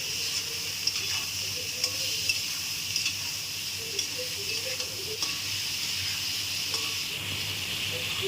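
Hilsa fish curry frying in a pan as turmeric and salt are stirred in: a constant soft sizzle and hiss with light intermittent stirring scrapes, close and moderately quiet, no talking.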